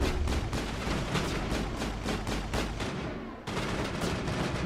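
Gunfire rattles through a firefight in the video game Mass Effect. Rapid, loud, repeated shots come in a quick rhythm, with a brief lull before another burst resumes.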